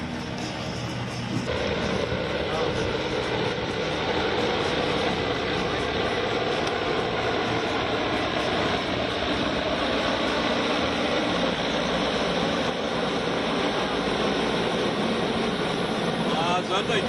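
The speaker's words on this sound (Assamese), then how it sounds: "এই হেলিকপ্টাৰ আমি দেখিবলৈ পাইছোঁ গুৱাহাটীৰ আকাশমাৰ্গত লাচিত ঘাটৰ আকাশমাৰ্গত এই মুহূৰ্তত" A helicopter flies over Lachit Ghat in Guwahati during an Indian Air Force Day air show rehearsal, its rotor and engine making a loud, continuous broadband roar that stays steady throughout, with voices faintly mixed in.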